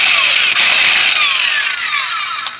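A pneumatic impact gun tightens lug nuts on a jacked-up car with a loud, continuous high-pitched whirring and rattling close by. It runs for almost the whole stretch and cuts off near the end, with no talking.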